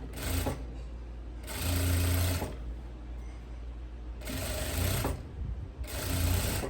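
A sewing machine stitches elastic onto a kimono-style dress in loud bursts of rapid mechanical whirring, a few seconds each, separated by quieter pauses filled with low handling noise; no speech.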